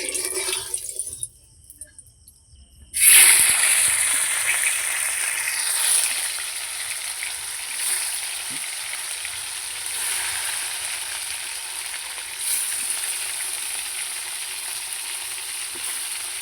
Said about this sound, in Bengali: কড়াই তেল দিয়ে দিয়েছিল, তেলটা গরম হয়ে গেছে, এর মধ্যে এবার মাছটা দিয়ে ভেজে নিচ্ছে।